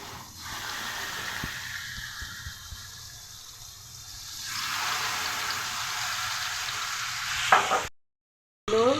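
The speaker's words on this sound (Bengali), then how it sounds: "তেলটা গরম হয়ে আসছে এখন আমি দিয়ে দিচ্ছি চিকেনগুলো" Chicken pieces for tandoori chicken frying in hot oil in a pan on a stove, a steady close sizzle that swells louder midway, ending in a brief sharp clatter before cutting off.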